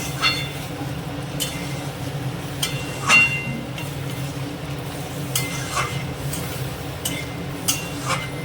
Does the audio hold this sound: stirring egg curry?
yes